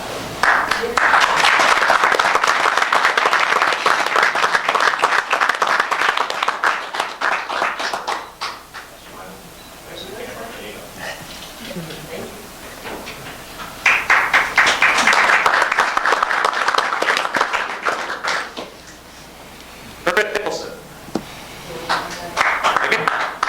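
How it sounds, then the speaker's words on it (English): Applause at a town council meeting, two bursts of loud clapping separated by a quieter stretch where someone speaks, with the clapping trailing off near the end. "Give him a round of applause"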